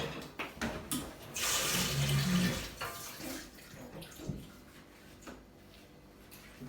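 Water poured for bread dough, a splashing, running stream close by that swells briefly and then trickles off into quieter handling noises, with no talking.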